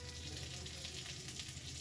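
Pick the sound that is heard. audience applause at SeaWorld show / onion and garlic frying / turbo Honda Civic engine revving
onion and garlic frying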